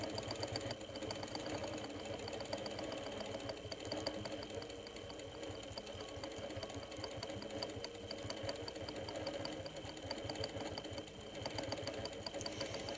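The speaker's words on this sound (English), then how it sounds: "you can definitely go in and do just a little bit more stitching on each of those lines" A sewing machine runs steadily, stitching extra lines on a custom fabric-panel quilt, a close continuous mechanical whir and needle patter without pauses or talk.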